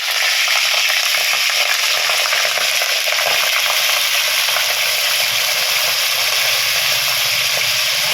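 Meat frying in a pan in a Bengali home kitchen, a loud steady sizzle close to the microphone with soft scraping stirs underneath, continuous throughout with no talk.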